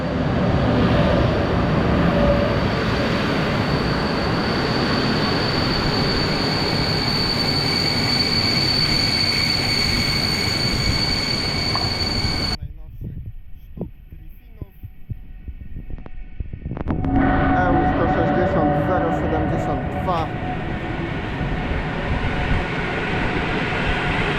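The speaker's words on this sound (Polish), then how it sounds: "dojeżdża Lubomirski, ten jest punktualnie." A Lubomirski passenger train pulls into a Polish station, a loud continuous rumble of wheels and carriages with a steady hum, dropping to near quiet briefly before the rolling noise resumes.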